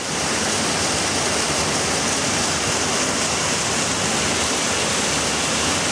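Pipp Brook rushes steadily behind Pixham Mill in a dense, continuous roar, like a brook pouring over a weir close by.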